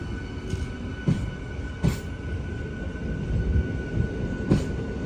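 A small train rolls into a small railway station on the line toward Chikkaballapur near Bengaluru, with a steady rumble, periodic wheel clacks over rail joints and faint wheel squeal at moderate distance.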